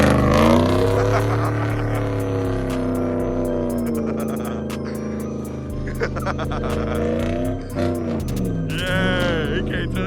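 Truck revving hard and spinning its wheels in a snowy burnout, a loud sustained engine roar with rising and falling pitch, heard up close alongside shouting onlookers.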